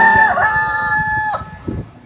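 A person imitates a rooster's crow in one loud, close, drawn-out cock-a-doodle-doo that rises and then trails off.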